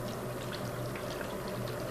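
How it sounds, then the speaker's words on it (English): Water pours steadily into a blender in a continuous gurgling rush, close and moderately loud, with no talking. "Add enough of the water to kind of cover everything"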